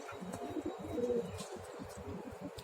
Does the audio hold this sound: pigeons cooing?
yes